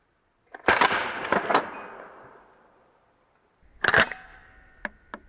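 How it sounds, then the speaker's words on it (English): A Ramset powder-actuated nail gun fires a green .22 blank into a torso target: a loud, sharp bang with a ringing tail, then a second blast and a few lighter clicks and knocks, all close with no talking. "Let's try the Ramset. And we'll start with a green 22 blank."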